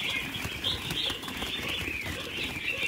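A red-whiskered bulbul flutters its wings in several quick flapping bursts close by, with faint chirps heard between them.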